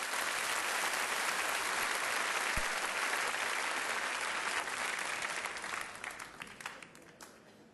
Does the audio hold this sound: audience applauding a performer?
yes